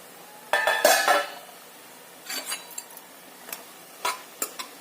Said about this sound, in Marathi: दोन ते तीन मिनिटानंतर झाकण काढून बघायचं